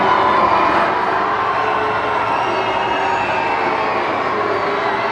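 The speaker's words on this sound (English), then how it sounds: "There's a lot of booing going on then." A crowd outside Cardiff Castle boos King Charles, producing a sustained, moderately loud mass of voices that swells at the start and then holds steady.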